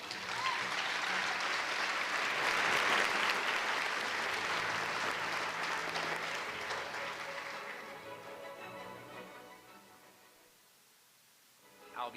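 An audience at a school district Teachers of the Year ceremony gives the teachers a sustained round of applause, full and steady for several seconds before gradually thinning and fading to near silence.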